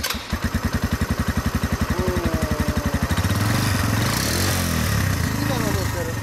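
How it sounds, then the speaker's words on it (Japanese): A motorcycle engine cranks into life and settles into an idle, close and loud, beginning with a rapid regular chug that turns into a dense, steady running rumble. "エンジンスタート。"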